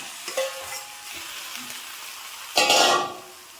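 Chicken is stirred into hot masala in a pan for chicken perattu. A soft sizzle with a few scraping stirs leads to a loud, close burst of frying near the end that then fades back down.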